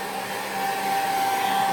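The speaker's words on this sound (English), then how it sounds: "So I'm gonna dry this completely with my blow dryer and continue on." A blow dryer runs continuously as it dries layers of foundation makeup, giving a close, steady whooshing roar that holds level throughout, with no talking.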